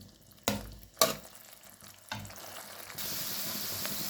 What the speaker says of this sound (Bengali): মাছগুলোর সাথে মশলাটা ভালো করে কষায় নেব।